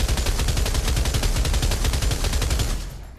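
A DP light machine gun in Pavlov fires one long, sustained burst of rapid, evenly spaced shots, loud and close, that stops abruptly near the end.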